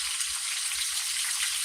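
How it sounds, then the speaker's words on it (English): Chicken and scallops frying in a covered pan, a steady dense sizzle with bright crackling hiss that stays loud and even throughout. "See how it's picking up in sound, guys, the frying, because I put the lid on it."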